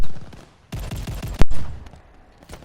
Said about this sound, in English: all you hear is the automatic shotguns, which these things easily can squeeze off all 5 rounds a second